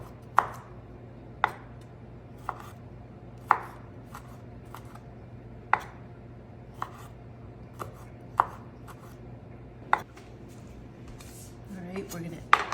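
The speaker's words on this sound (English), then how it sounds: "I'm gonna chop up the cucumber nice and fine as well into little tiny dices" A knife chops cucumber on a cutting board in a home kitchen while falafel is being prepared, with sharp, evenly spaced single chops about one per second, close and distinct over a steady low background hum.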